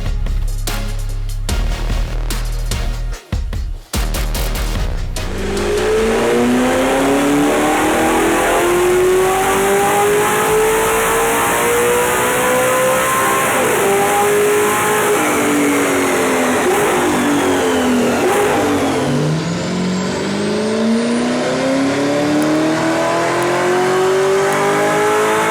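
A supercharged Audi S4 making over 500 wheel horsepower revs sharply and then launches, its loud engine and supercharger whine climbing steadily through gears with rising, falling pitch sweeps at close range.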